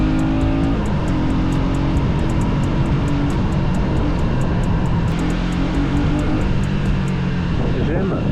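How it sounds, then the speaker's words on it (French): A motorcycle engine revs under a rider's throttle, a loud continuous droning roar with shifting pitch and regular ticking pulses throughout, close to the microphone. "J'aime beaucoup quand ma moto elle est réactive comme ça, c'est excellent."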